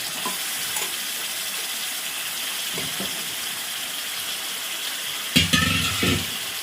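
Running water splashes faintly in the background, with a brief louder burst of rinsing and sloshing near the end as chicken is washed.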